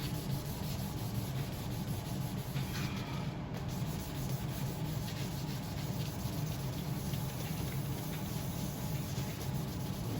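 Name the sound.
sanding a guitar body finish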